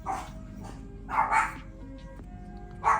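Dogs barking indoors in a few short, loud bursts at the start, middle and end of the clip, over a low steady background hum.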